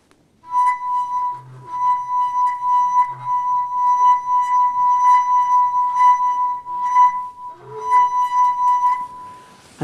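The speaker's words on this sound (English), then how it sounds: "If I make this one sing by rubbing my finger around the top of the glass" A wine glass sings as a finger circles its rim, giving a pure, steady ringing tone that sustains for several seconds with faint wavering and brief soft squeaks of skin on glass.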